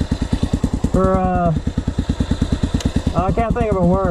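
A carbureted Honda XR 500 motorcycle engine idles nearby with a loud, steady, evenly pulsing thump throughout, while someone talks over it.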